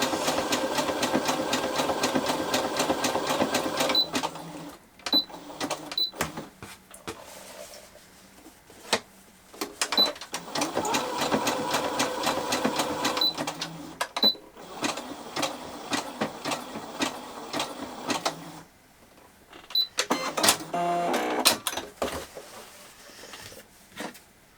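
A sewing machine stitches cotton wrist wraps in three rapid mechanical bursts of whirring needle strokes, with short quiet pauses between runs.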